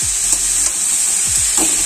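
Banana stem sizzles as it fries in a pan, a loud close hiss with a few soft stirring strokes, no one speaking.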